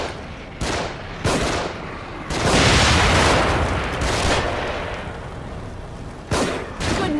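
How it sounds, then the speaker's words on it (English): Gunfire from The Evil Within video game comes as loud bursts of shots and sustained fusillade, with booming volleys that start and stop abruptly. "They're shooting from above."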